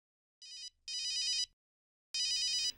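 A telephone rings in three bursts of bright electronic trilling, two close together and a third after a pause, clear and near with silence between, followed by a faint rustle.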